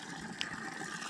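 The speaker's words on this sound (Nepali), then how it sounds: "त्यहाँ पानी भरिँदैछ गाइस।" Water runs steadily from a tap into a container being filled for cleaning a toilet, a faint continuous gush with no talk.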